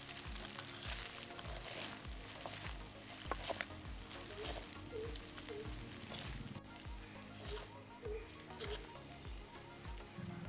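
Masala Maggi noodle ingredients being mixed with a fork and spoon in a pan, a soft continuous sizzle under faint repeated scraping and stirring strokes, low in level and without speech.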